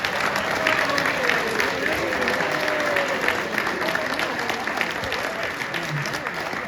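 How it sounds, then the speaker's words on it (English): A comedy club crowd applauds the board members and volunteers with loud, steady clapping mixed with cheers and crowd murmur, sustained evenly from start to finish. "for a big round of applause?"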